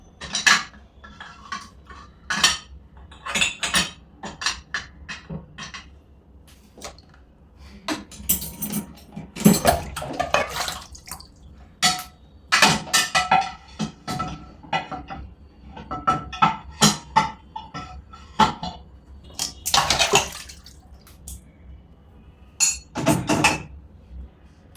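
Pots, mugs and cutlery clatter repeatedly as they are loaded into a Midea two-rack dishwasher, with sharp metallic and ceramic knocks in irregular bursts close by and no talking.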